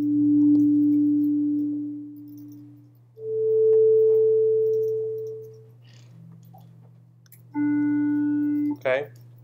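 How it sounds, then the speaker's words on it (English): A synthesizer oscillator set to a sine wave sounds a series of steady, pure tones at different pitches, each held for a few seconds, ending with a brief warbling chirp, loud and close. "So if I change this to a cycle, I can go back to being a sine wave."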